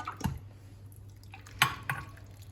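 Sauce poured over potatoes with onions in a home kitchen, giving soft wet drips and splashes with a couple of light clinks from a pan or utensil, close and fairly quiet.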